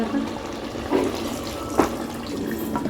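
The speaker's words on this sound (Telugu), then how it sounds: "కొంచెం నీళ్లు పోసుకుంటున్నారు" Water pours and splashes steadily into a cooking pot, with a few louder sloshes and a faint clink along the way.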